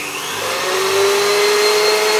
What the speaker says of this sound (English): I need to get the egg whites whisking.